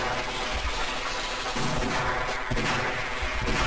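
Heavy, sustained gunfire from the Half-Life video game, a dense continuous barrage with bursts of louder shots and booming impacts filling the whole span, loud and close with no voices.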